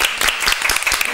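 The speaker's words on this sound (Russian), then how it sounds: "Понятно, аплодисменты!" Brief, steady applause from a television studio audience on a Russian kids' ideas show, a dense patter of many hands heard alone at moderate volume.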